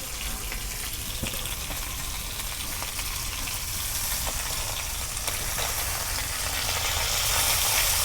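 Pangas fish sizzling in hot oil in a pan after being flipped, a steady broadband frying hiss that grows slightly louder toward the end, with no talking.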